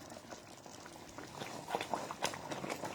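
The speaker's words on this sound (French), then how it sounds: "Les pommes de terre sont déjà cuites comme ça cuit à feu doux là." Potatoes simmering in a pot over low heat give a steady bubbling and gurgling wash with scattered pops that swell slightly toward the end, close by and fairly quiet.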